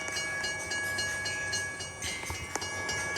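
A train rumbles past at a steady moderate distance, its continuous rolling noise and faint clatter holding throughout with a few sharper knocks near the end.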